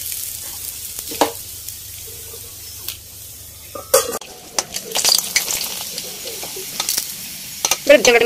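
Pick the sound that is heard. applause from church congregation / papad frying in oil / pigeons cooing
papad frying in oil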